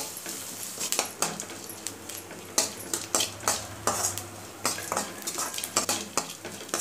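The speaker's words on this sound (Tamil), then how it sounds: "ரெண்டு பச்சை மிளகாய் கட் பண்ணி வச்சுருக்கேன், இதை சேர்த்துக்கிறேன். வெங்காயம் நல்லா வதங்கணும்." Onions and green chilies sautéing in a pan for tomato sevai, with a bed of sizzle broken by repeated sharp metal spoon scrapes and clanks against the pan in an uneven stirring rhythm.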